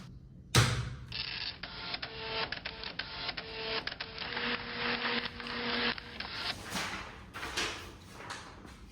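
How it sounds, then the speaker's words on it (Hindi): A printer printing out an exam result: a sharp clunk as it starts, then a long whirring, buzzing feed with rhythmic mechanical ticks and clicks, ending in a few fainter clatters. "अच्छा ये रिजल्ट का प्रिंट निकालना है?"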